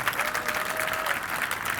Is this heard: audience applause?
yes